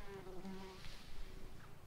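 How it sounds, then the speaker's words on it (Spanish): Outdoors, a wasp buzzes in a steady, fairly close drone with a wavering pitch, heard over soft wind for about two seconds. "o una abeja, pero yo creo que era una avispa"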